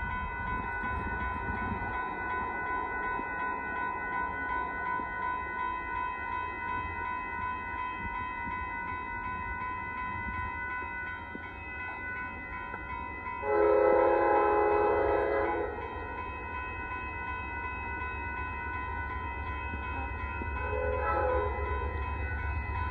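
Northbound Amtrak Texas Eagle 22 rumbles past a crossing at Dittmar Road in Austin, Texas, with a steady rail roar and two loud horn blasts, the second one shorter.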